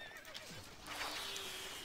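A horse neighs in the Stronghold Crusader strategy game, a clear whinny rising and falling over about a second, with light hoof clip-clop and ambient game sounds underneath and no talking.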